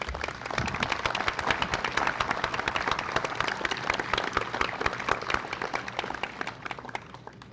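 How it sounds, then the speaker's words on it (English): Spectators at a Civil War soldier monument rededication clap for a color guard and honor guard, crisp individual claps blending into a lively round of applause that carries on steadily before easing slightly. "Let's have more applause for the Color Guard and the Honor Guard."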